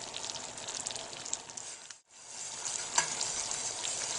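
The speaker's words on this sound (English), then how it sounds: "This whole pan is boiling really hard" A pan of candy mixture boils hard with a loud, bubbling sizzle that drops out briefly and then resumes with scattered pops.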